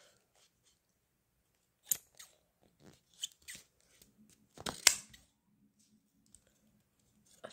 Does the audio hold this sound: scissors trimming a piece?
yes